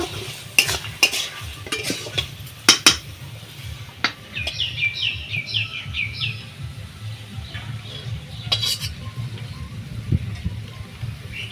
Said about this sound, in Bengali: তরকারিটা হয়ে গেছে এবার ঢেলে নেব